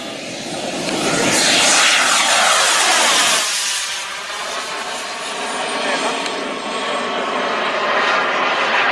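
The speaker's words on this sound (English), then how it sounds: "we're gonna watch him fly this huge plane" A huge RC model airplane flies past outdoors, its engine swelling to a loud, close roar and then sliding down in pitch as it moves away, with a steadier drone afterward.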